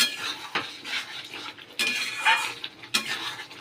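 Onions fry in a pan while a utensil stirs and scrapes against the metal in repeated strokes over a soft sizzle, close and fairly quiet.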